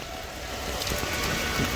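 Heavy rain driven by strong wind pours down as a dense, loud, continuous hiss for a couple of seconds, close by and unbroken by voices.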